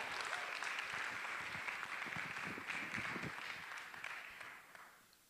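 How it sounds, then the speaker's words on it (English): A crowd applauds at a public talk on ending mass incarceration, steady, close clapping that holds for several seconds before fading out. "Let's get another hand of applause for Barbara Santos"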